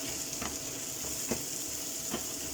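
Penne pasta and mushrooms sizzle steadily in a hot pan before minced meat is added, with a constant crackling hiss, broken by a few soft scraping stirs.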